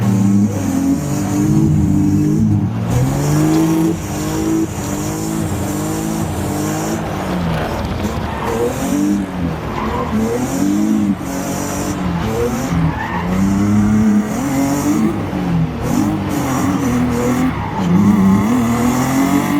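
A Nissan S13 Formula Drift car with a VQ engine revs hard with long, repeated tire squeals and skidding, loud and close, rising and falling as it drifts continuously through a lap.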